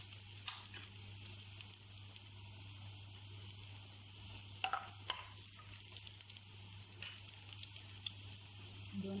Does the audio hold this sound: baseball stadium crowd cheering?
no